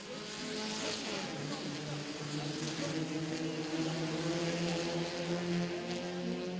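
Race cars roar in a steady, droning pack at round 3 of the J K Tyre FMSCI National Racing Championship in Coimbatore. Engine whine carries strong harmonics, heard from a moderate distance with no speech over it.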